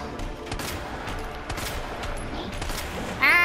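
Rapid gunfire in Resident Evil 2, a dense run of overlapping shots and bursts rattling continuously at steady loudness, ending with a louder electronic tone.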